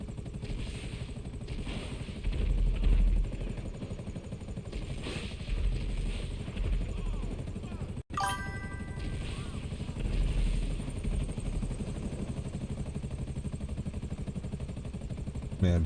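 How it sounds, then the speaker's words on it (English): Several helicopters closing in during a frantic GTA5 game moment, a steady rotor-and-engine drone filling the scene with a brief dropout midway, with a voice occasionally over the noise. "There are so many helicopters coming at you."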